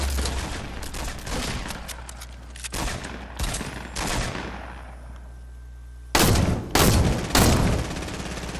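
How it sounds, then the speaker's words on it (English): Rapid bursts of gunfire from a Fortnite firefight, sustained crackling volleys followed by three louder, closer blasts near the end, with no talk over them. "Shooting them."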